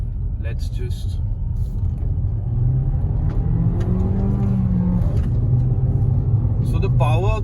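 A Skoda Slavia turbo car accelerates hard, its engine note climbing steadily under the cabin rumble while someone talks over it.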